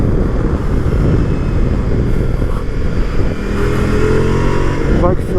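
Ducati Multistrada V4 S motorcycle ridden on a slightly bumpy road, its engine droning loud and steady with wind rush throughout, rising slightly in pitch near the end.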